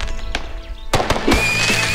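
Cartoon fireworks in a children's animated show go off in a few sharp bursts, followed by a sustained crackling, fizzing spray.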